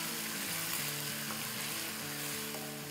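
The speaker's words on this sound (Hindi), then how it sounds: "इसको सॉटे करेंगे" Crushed garlic and green chillies sauté in a pan with a steady, soft sizzle, a faint even frying hiss with no talk over it.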